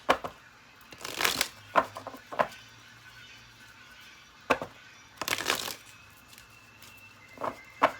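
Tarot cards shuffled and drawn by hand, heard up close as short, crisp riffling bursts and soft flicks with quiet gaps between them and no talking.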